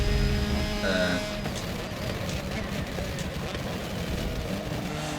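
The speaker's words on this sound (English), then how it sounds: "this car is very deep pitched" A deep-pitched race car engine in the Forza Motorsport 7 racing game at Long Beach, droning steadily and loudly throughout with an audible gear shift near the start.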